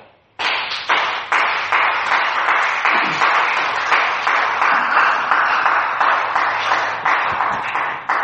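A church congregation claps together in a steady, loud rhythm that carries on without a break, with the beats evenly spaced throughout.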